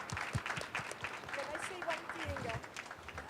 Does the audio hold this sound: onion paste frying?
no